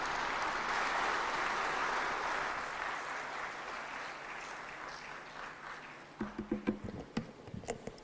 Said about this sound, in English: May I request you to stand up and we clap our hands.